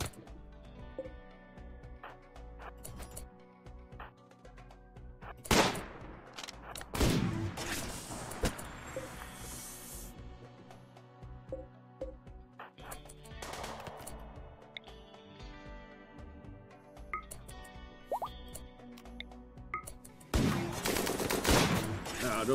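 Colonists in RimWorld exchange gunfire, a scattered fusillade of faint cracks and bursts spread across the stretch, with occasional louder volleys, distant game sounds and some brief talk.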